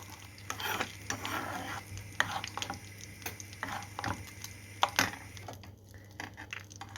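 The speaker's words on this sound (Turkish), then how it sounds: "Tereyağımız da bir güzel köpürdü." Steady sizzling and crackling of butter foaming in a hot pan, with occasional clinks and stirring scrapes close by.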